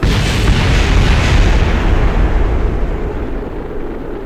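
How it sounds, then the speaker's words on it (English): Rocket explosion in Kerbal Space Program, a loud booming blast whose rumbling roar swells and then slowly fades away, heard alone without talk. "There's going to be explosions."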